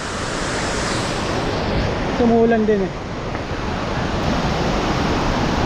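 Steady roaring surf of strong waves at Wawa Dam fills the scene, with wind buffeting the microphone and a brief voice speaking over it.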